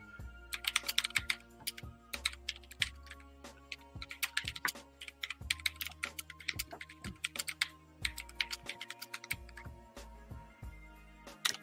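Keys clatter on a computer keyboard in steady bursts of fast typing with brief pauses, close by and fairly loud, with no talking over it.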